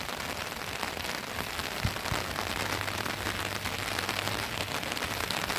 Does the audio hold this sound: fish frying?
no